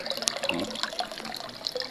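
Water flowing by itself out of a well without an electric pump, a short, faint burst of splashing and trickling with scattered bright drips.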